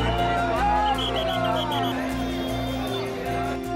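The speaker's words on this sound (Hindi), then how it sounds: "भक्तों की भीड़ से अयोध्या का कोना कोना राम नाम से गूंज रहा है।" A crowd of devotees in Ayodhya, a steady hum of many voices with some cheering and whoops, over a sustained tonal music-like drone, fairly loud and continuous.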